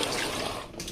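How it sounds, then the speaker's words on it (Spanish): Water gushes into a pot holding chicken, potato, carrot and pumpkin in a kitchen, a short, close splashing pour that lasts under a second with no talk. "Y cubrimos de agua."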